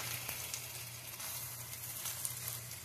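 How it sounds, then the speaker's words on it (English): Four hamburger patties pan-fry with a soft, continuous sizzle and crackle, faint and steady for a few seconds with no talk. "Instead of just pan frying them like this and expecting them to just come out right"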